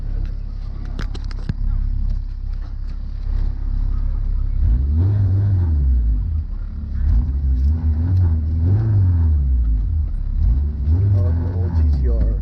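An old Nissan GT-R engine revs at a car meet, rising and falling in several loud, rumbling surges amid crowd noise and nearby voices.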